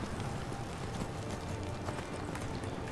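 A horse gallops in Skyrim, a quick rhythmic drumming of hooves that stays steady and fairly close throughout the short stretch.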